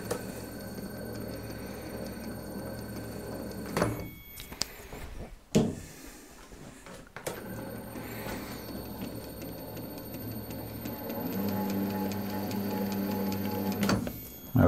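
A metal lathe cuts an 18 TPI thread, a steady mechanical whir and hum running through most of the span, broken by brief pauses and clunks near the four-, six- and fourteen-second marks.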